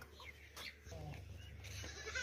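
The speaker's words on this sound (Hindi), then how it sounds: "ये है बकरा" A fat, healthy male goat at a livestock sale gives a short, quiet bleat, faint and close amid soft background noise.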